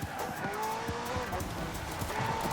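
McLaren P1 supercar with a twin-turbo V8 and electric motor in Forza Horizon 4, a steady engine drone with rising whine and tire noise throughout, close and continuous with a voice talking over it.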